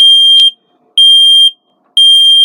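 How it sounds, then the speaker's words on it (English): Three loud, piercing electronic beeps from a smoke alarm's press-to-test button in a Fairford Plus 2 caravan, each about half a second long, evenly spaced with brief silences between. "Just inside the door you've got your smoke alarm with your press to test in the centre"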